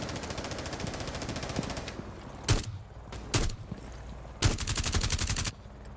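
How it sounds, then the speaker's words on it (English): Video game gunfire as a player shoots through a wooden wall: a rapid automatic burst fading out, then three short sharp bursts of fire separated by quiet gaps. "Did he just shoot at the rook through the wall there"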